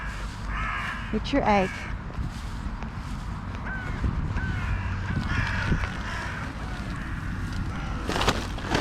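Crows, including one called Seymour, caw nearby in a few harsh calls early on and another near the end, over an outdoor backdrop while a person speaks softly.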